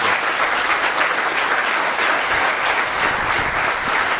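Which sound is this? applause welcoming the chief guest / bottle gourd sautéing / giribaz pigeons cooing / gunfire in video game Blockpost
applause welcoming the chief guest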